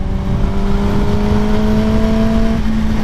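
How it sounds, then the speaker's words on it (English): A motorcycle engine holds a loud, steady drone with a constant pitch while riding, dropping slightly near the end, with no speech. "Riding the motorcycle is so fun."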